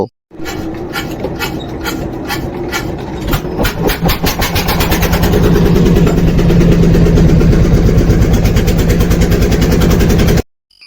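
A river trawler's engine starts up and settles into a loud, rapid diesel chugging, the pulses speeding up and steadying into a continuous close-up throb before it cuts off abruptly.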